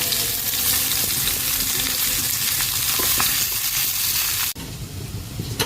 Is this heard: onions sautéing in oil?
yes